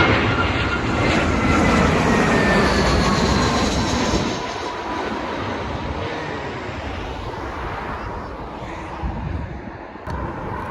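A British Airways airliner approaching Heathrow Airport with a loud, broad engine roar that holds steady, eases after about four seconds and fades slowly, with no talk over it.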